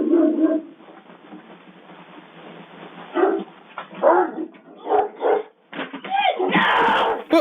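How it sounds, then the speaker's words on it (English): A dog in Alaska barks and whimpers in repeated agitated bursts during a run-in with a moose, loud and close on a thin, band-limited recording. "This dog in Alaska had a terrifying run-in with a giant moose."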